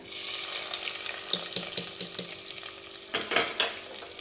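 Fried cashews and raisins stirred into wheat kheer in a pan, a sizzling hiss underneath a run of soft scraping and clinking strokes, with a louder burst of stirring near the end and no talking.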